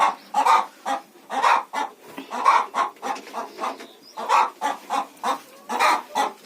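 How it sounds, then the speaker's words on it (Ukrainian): Farmyard hen clucking close by in a repeated series of short, loud clucks with brief pauses between them, heard alone without talk. "Вибач, курочка злякала тебе."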